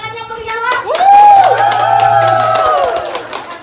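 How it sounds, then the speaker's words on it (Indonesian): A crowd responds with cheers, whoops and some clapping, building quickly and holding, with voices prominent over the applause. "Tepuk tangan yang meriah lah."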